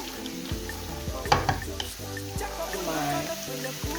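Party fried rice with spring onions, carrots and peas is stirred in a hot pan, with a soft steady sizzle under scraping and clinking of the spoon, close and moderate in level.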